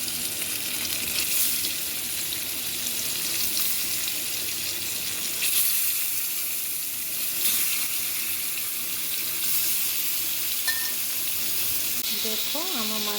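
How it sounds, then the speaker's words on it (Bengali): Katla fish sizzles in hot oil with a steady, fairly loud broadband crackle through the whole stretch, some clinks of a utensil near the end. "মাছটা একটু ভেজে নিচ্ছি।"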